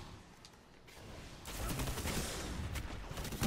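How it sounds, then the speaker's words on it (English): Perun's Fire fusion rifle firing in Destiny, a dense crackling burst that starts soft, then swells into loud sustained bursts of energy fire with sharp spikes toward the end. "This fusion rifle isn't that bad."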